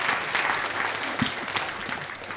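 Audience applause in a seminar or talk setting, a steady wash of clapping filling the whole stretch, fairly loud and close, with no voices over it.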